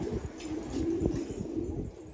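A pigeon on a rooftop coos in a short, close, steady burst, a low throaty murmur heard alone.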